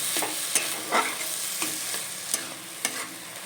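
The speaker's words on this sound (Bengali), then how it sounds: "এরকম পেতে দেবো আমি একটু নেড়ে ছেড়ে আবার খানিক্ষণ পরে আমি এটাকে নাড়বো" Taro flowers frying in a pan are stirred with a series of scraping, clacking strokes at an uneven pace over a soft, steady sizzle, close by and with no talking.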